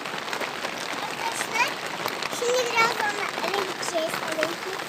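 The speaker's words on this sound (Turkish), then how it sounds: "Çok güzel yağmur yağıyor değil mi?" Steady rain hissing outdoors, with a few faint high chirps and distant voices in the background.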